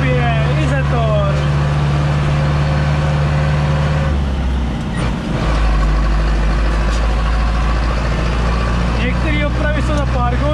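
Zetor 7745 tractor with a slipping clutch, its engine droning steadily and loudly close by, with a brief dip midway and someone talking over it throughout.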